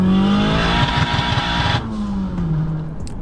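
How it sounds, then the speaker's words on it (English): A Honda Jazz with a K20 engine runs on a dyno. The engine is loud and close, holding a steady drone, then drops to a lower pitch as it eases off, with a roaring exhaust note. "Andrew is putting the Jazz on the dyno"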